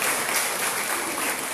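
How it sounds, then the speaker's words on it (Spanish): A conference audience applauds a guest doctor after his talk, a dense, steady wash of many hands clapping together for the whole moment, with no voices over it. "les pido a todos ustedes brindarle un fuerte voto de aplausos al doctor José Reinaldo López Viera"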